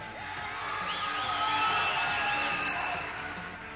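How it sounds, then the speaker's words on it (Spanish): Crowd at an amateur kickboxing event applauding and cheering loudly and steadily after a 62 kg fighter is announced, with whoops rising over the sustained clapping. "Fuerte aplauso para Lautaro."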